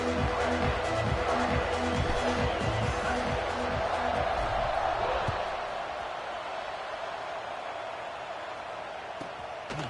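Steady roar of a football stadium crowd cheering at kickoff, a dense, continuous wall of noise with faint rhythmic thumps early on, easing slightly as it goes, with no voices standing out.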